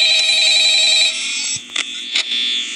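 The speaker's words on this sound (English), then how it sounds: "Yeah, answer the phone." Telephone ringing in the horror video game Five Nights at Freddy's, a bright electronic ring that sounds steadily for about a second, then cuts off into short clicks and blips.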